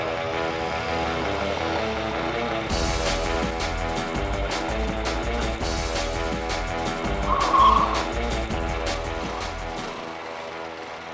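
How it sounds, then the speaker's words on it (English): A Honda CG125 four-stroke 125cc motorcycle engine drones steadily nearby, its pitch rising and falling as the throttle changes, with bursts of louder revving. "125cc motorcycle."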